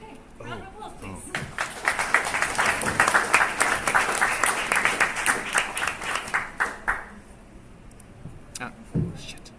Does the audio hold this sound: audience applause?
yes